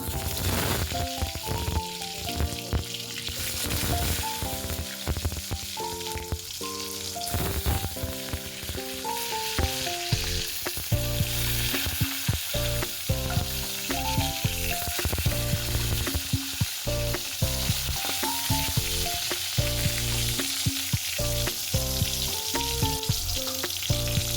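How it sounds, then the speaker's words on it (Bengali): Eggplant frying in hot oil sizzles continuously at a moderate level, with occasional stirring clatter and a faint melody running underneath. "আগে বেগুনটা ভাজা করব"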